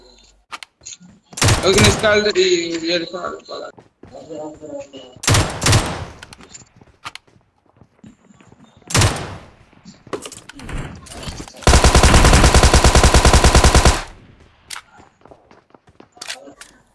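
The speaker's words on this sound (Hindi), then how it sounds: "कवर फायर दिया था यूएमपी से" Cover fire from a UMP in PUBG Mobile sounds as several loud, close bursts of gunfire, ending in a long sustained volley, with scattered game noises in between.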